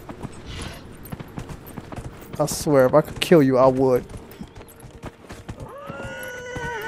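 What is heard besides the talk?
horse hooves clip-clopping and neighing in video game Dragon Age: Inquisition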